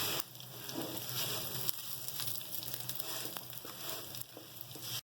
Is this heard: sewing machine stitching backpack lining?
no